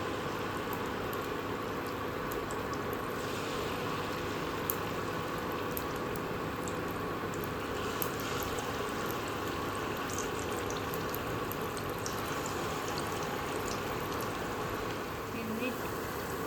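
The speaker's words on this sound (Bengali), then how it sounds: "তেলটা গরম হয়ে গেছে, এবার আস্তে আস্তে আমি ছিঁড়ে দিচ্ছি বড়াগুলো।" Palm fritters (taler bora) frying in hot oil give a steady, even hiss and bubbling with faint crackles that run unbroken throughout, fairly soft and close.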